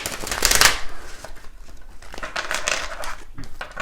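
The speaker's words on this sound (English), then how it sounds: "Gonna give this a few shuffles." A deck of tarot cards being shuffled by hand, with a loud riffling burst near the start followed by softer repeated sliding and riffling strokes, close and fairly loud with no talking.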